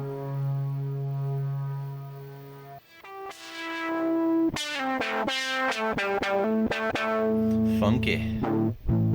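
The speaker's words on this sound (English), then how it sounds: "I just like distortion in general" A distortion audio effect plugin processes a sustained synth tone that turns from a smooth hum into a gritty, buzzing, heavily saturated sound with sharp rhythmic cuts, loud and continuous.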